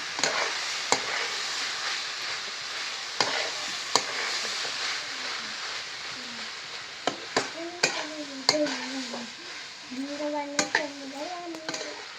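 Tomato chutney sizzles softly in a pan while a spoon stirs it with repeated scraping taps against the metal. A faint voice hums or speaks partway through.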